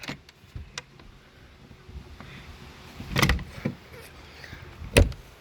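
A stiff, wonky chicken coop door is forced shut, giving scattered creaks and scrapes followed by two sharp wooden bangs, close and fairly loud, with no talking.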